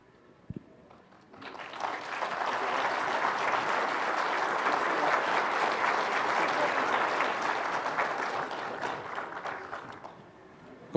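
An evangelistic campaign crowd in Bolivia bursts into applause after a brief pause, a full, even roar of clapping that holds strong for several seconds before fading out.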